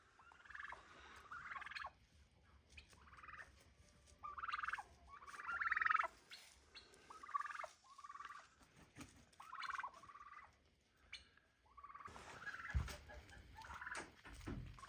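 Repeated turkey gobbles from a rooftop on a small farm ring out in bursts roughly every second or two, fairly loud and close, with a brief noisier stretch near the end.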